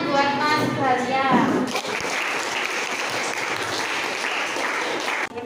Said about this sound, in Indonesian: Beri tepuk tangan buat Mas Baria.